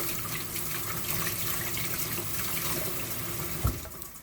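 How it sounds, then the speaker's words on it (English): A kitchen tap runs steadily as hands are washed under it, a constant hiss of flowing water that ends with a brief splash or knock near the finish. "washing my hands"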